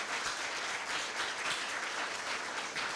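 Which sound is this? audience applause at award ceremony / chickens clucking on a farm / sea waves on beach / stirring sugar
audience applause at award ceremony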